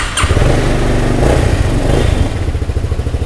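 A late-2008 Honda motorcycle with its stock engine and exhaust idles steadily nearby, a loud, smooth, even throb with no talk over it.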